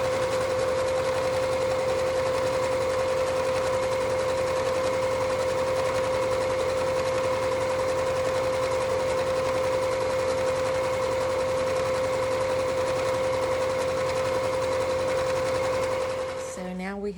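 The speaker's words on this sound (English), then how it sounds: "we are just going to sew down the two long sides" A sewing machine runs continuously, stitching down the two long sides of a fabric cowl neck warmer with a steady, loud whirring hum and rapid needle chatter, close by, slowing to a stop at the very end.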